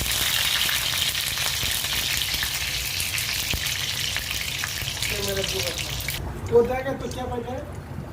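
Curry leaves sizzle in hot oil with a steady, close crackle that fills most of the stretch before a person starts talking over the frying near the end.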